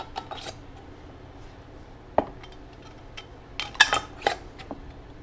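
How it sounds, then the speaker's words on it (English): A metal canning lid set onto a glass jar of squash and zucchini in a home kitchen, giving a few faint, sharp clinks and taps in an otherwise quiet room. "Now I'll put my lid on there"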